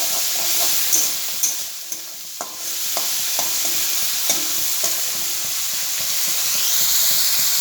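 Cooked rice and vegetables frying in hot oil in a home kitchen for a child's tiffin: a steady loud sizzle and hiss, with intermittent sharp clicks and scrapes of stirring against the pan, no talking.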